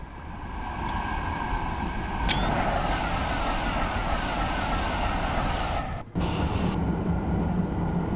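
A TGV Reseau high-speed train runs on the Northeast Corridor in the Train Sim World 2021 game. A steady, broad rolling roar holds throughout, with a brief high chirp early on and a short dropout near the end.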